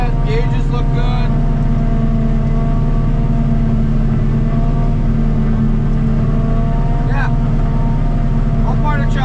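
Forage harvester chopper working through a field, its engine giving a loud, constant, heavy drone with a deep hum and steady mechanical clatter, and brief light knocks on top.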